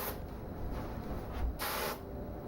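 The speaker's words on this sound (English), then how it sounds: "Then hairspray your curls into place on top." Hairspray hisses onto styled curls in a backstage fairy updo, a broad airy spray at moderate volume with a stronger burst near the end, over a steady background hum.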